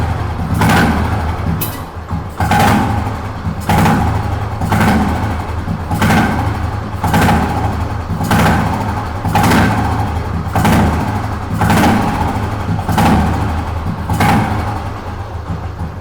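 A fully restored 1971 Royal Enfield motorcycle idles steadily up close, its single-cylinder thump pulsing in an even, loping rhythm with regular surges, loud and unbroken with no voices.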